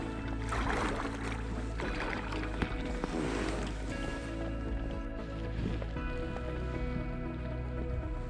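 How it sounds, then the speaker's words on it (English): An Intex K2 Explorer inflatable kayak pushes through small waves with continuous splashing and water rush, louder at the start and then settling into a softer wash. "Cuts through really well through these waves."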